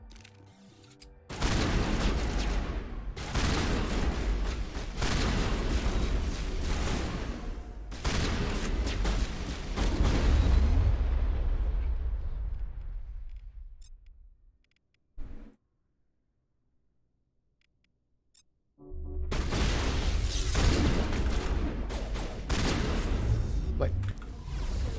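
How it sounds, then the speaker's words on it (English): Heavy shotgun blasts and combat noise in Mass Effect 1 Legendary Edition, long loud stretches of firing broken by a near-silent pause, then another burst, with talk over it. "Let's see how well the shotgun does."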